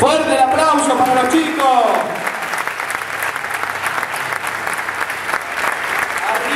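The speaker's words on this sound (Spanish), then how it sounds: "Fuerte el aplauso para los" Applause and crowd noise for a youth football division of a local athletic club, champions of the opening tournament, at an outdoor awards ceremony; an announcer's voice fades out early as sustained clapping carries on steadily.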